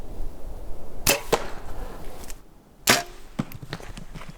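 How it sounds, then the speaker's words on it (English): A bow-shot arrow strikes a deer in the paunch during a saddle hunt, heard as two sharp impacts about a second apart, followed later by another crisp crack and faint rustling, all fairly close with no talk. "The sound of the hit was a distinctive paunch hit."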